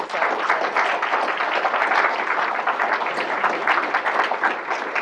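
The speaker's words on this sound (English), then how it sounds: "I'd like to have just one more round of applause for all 3 of our speakers." A conference audience gives a steady round of applause for three speakers after a business integrity talk, dense clapping sustained evenly throughout without any voices on top.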